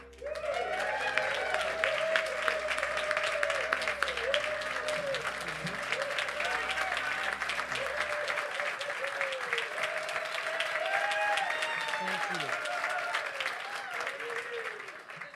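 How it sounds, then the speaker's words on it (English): A church congregation at a Sunday service applauds a reverend as he comes to the platform, steady full applause lasting the whole stretch, with a brief spoken thanks near the start. "Now you got to hold that applause down"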